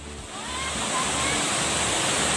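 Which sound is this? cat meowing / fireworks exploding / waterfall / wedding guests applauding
waterfall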